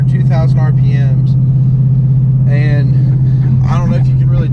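A straight-piped 2016 supercharged Mustang cruising at about 70 mph near 2,000 RPM fills the cabin with a loud, constant low exhaust drone, while someone talks over it throughout.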